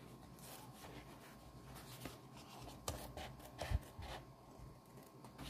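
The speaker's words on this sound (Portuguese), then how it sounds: "E agora eu vou cortar." Scissors cutting out a paper bunny template for an Easter candy holder, soft rasping snips and paper rustle close by, quiet with a couple of slightly louder crunches near the end and no speech.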